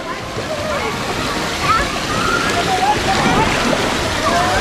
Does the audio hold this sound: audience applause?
no